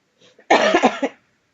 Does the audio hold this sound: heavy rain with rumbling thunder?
no